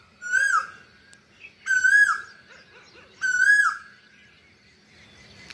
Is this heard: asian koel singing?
yes